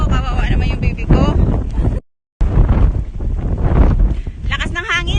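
Strong wind buffets an outdoor spot, roaring across the microphone in loud gusts, with people talking over it and a brief dropout midway.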